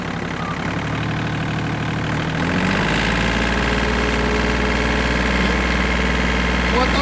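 A farm tractor engine idles and then revs up partway through to a steady, loud working speed of about 2500 rpm, a continuous mechanical drone close by with a voice mixed in.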